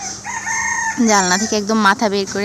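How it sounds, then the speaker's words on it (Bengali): A rooster crows outdoors with a loud, close, drawn-out call, while someone talks over it. "তো পাখির ডাক, মুরগির ডাক শোনা যায়।"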